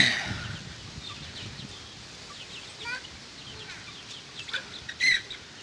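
Chickens and chicks of the Peru fighting breed cluck and peep in short, scattered calls on a poultry farm, with a few louder clucks near the end and faint talking in the background.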